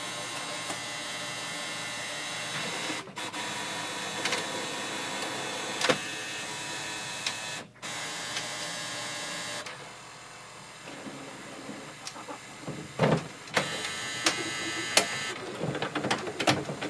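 Mechanical whirring and humming of an HP OfficeJet Pro 9019 inkjet printer scanning pages, with steady motor drone, occasional clicks and shifts in tone as the scanner moves.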